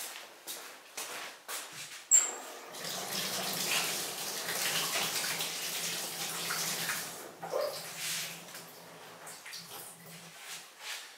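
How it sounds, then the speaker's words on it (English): Hands washed under a running tap in a pottery workshop: a steady, close hiss of flowing water runs for several seconds, with faint splashing shifts as the hands move. "I'm just gonna quickly wash my hand."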